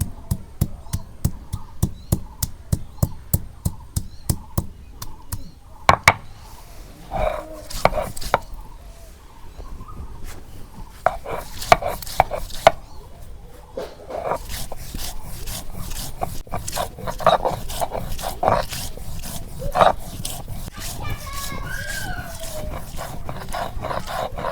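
Ginger and garlic being ground together into spice paste, likely on a grinding stone, with steady rhythmic scraping and pounding strokes, close and fairly loud, continuing throughout with no talk.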